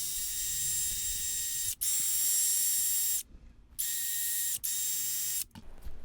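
Wire wheel buffing a metal washer from an antique Landis Model 30 leather splitter, a steady high whirring grind in several bursts with brief pauses between them, close and fairly quiet.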